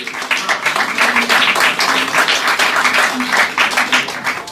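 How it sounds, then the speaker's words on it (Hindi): An audience at a speeches and awards event applauds with dense, sustained clapping that rolls on steadily with slight swells, loud and close, with no talking over it. "तो एक दफ़ा भरपूर तालियां इनके लिए बजाइए।"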